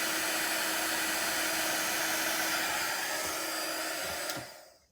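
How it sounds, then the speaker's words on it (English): A heat tool blows hot air over embossing powder on a card, a loud steady whirring drone that cuts off near the end. "then from the front you can just go ahead and heat up the embossing powder"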